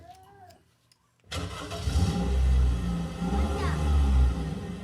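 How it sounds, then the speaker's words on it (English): A car engine cranks and turns over after a brief quiet, then settles into a loud, steady idle rumble with some revving, close by, while people talk faintly in the background during a comedy hypnosis stage show. "Go ahead and start your car up"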